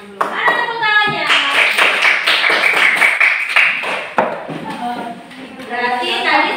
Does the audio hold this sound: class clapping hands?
yes